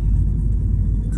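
Car driving along a road, a steady low rumble of engine and tyres heard from inside for a brief moment, with no talking.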